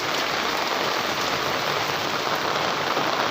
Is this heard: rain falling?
yes